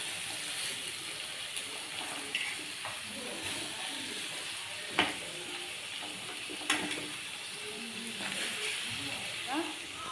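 Onions frying in hot oil give a steady, close sizzle and hiss throughout, with occasional sharp pops and light stirring clinks.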